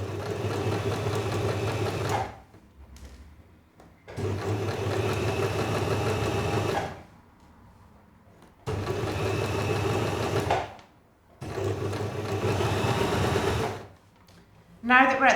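Electric sewing machine stitching a fabric seam, running in three or four steady buzzing bursts of a few seconds each, separated by short pauses, close and loud.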